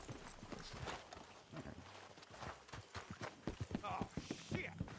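Horse hooves clip-clop on the ground in the Red Dead Redemption 2 video game, an uneven walking rhythm heard close under in-game characters talking.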